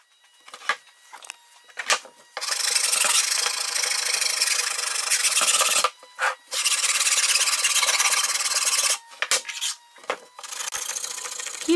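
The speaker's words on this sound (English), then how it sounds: "Here my dad is busy at work sanding out those harp necks." Wooden harp necks being sanded in a workshop, long bursts of harsh, close rasping friction separated by brief pauses and a few short strokes, with no talk.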